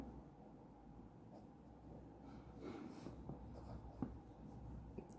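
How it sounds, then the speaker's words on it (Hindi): Data being written by hand for a commerce maths problem: faint, steady pen scratching on paper, close by and low, with a small tap near the end and no speech. "तो बस डाटा लिख लेते हैं।"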